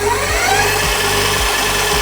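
A Fiido L3 folding electric bike's hub motor spins under throttle, giving a steady close whine with a faint rhythmic thump repeating about twice a second.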